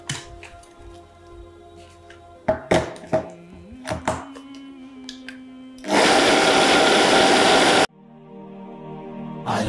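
A blender whirs loudly for about two seconds as it mixes almond flour into a crumble, preceded by soft clatter and knocks as the lid goes on. A quieter hum follows the burst.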